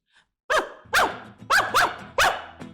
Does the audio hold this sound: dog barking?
yes